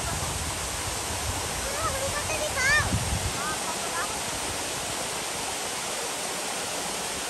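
A steady, full roar of a waterfall at Patnadevi near the Chandika Mata temple rushes without pause, with a faint voice briefly audible partway through.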